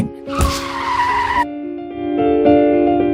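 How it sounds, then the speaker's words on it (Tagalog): A car reversing and braking hard, tires skidding and squealing loudly for about a second, then dropping to a steady engine hum with scattered thumps. "Bigla kong inatras ang kotse sabay tapak sa preno."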